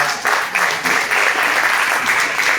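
An audience claps steadily for a performer at a stage music event in Nashik, a dense, continuous wash of hands that holds strong from start to finish without a pause.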